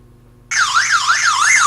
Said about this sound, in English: There's my panic alarm.